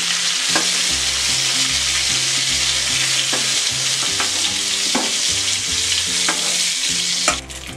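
Potatoes frying in hot oil for a Bengali koi fish curry with cauliflower, a steady loud sizzle with scraping stirs throughout and no voices.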